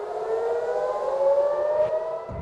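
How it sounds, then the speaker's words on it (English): An air raid siren sounds across central Israel, a steady, slowly rising wail that carries from a distance for a few seconds, with no one talking. "Sirens sounded across central Israel as residents prepared for Passover amid ongoing attacks."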